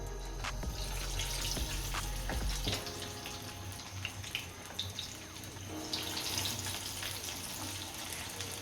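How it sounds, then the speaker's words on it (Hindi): Chicken pakora pieces frying in hot oil, a continuous close sizzle and crackle with scattered pops, no talking. "अब हम इसमें एक एक करके चिकन के पीसेस डालेंगे"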